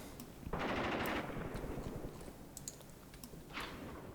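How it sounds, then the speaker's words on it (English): Tank cannon and machine-gun fire in the Graviteam Tactics war game, a KV tank engaging a machine-gun position: a dense loud burst of gunfire around half a second in, then scattered distant shots and sharp cracks. "the KV is engaging this machine gun"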